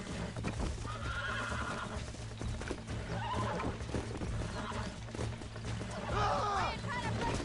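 In the video game Red Dead Redemption, horses whinny in rising, wavering calls over a steady patter of clip-clopping hooves, with someone talking over the busy, close game soundscape.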